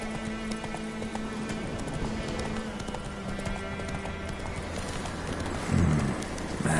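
Roach the horse gallops in The Witcher 3, producing a steady, rhythmic thud of hooves over game ambience with a brief snort or whinny near the end.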